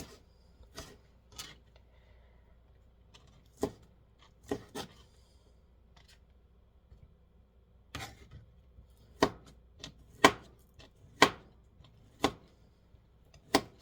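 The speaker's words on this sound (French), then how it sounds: "Et je coupe ça en petits cubes." A knife chops leftover pork picnic shoulder into small cubes on a board, giving sharp, separate knocks at an irregular pace, sparse at first and then quicker and louder toward the end, with no talking.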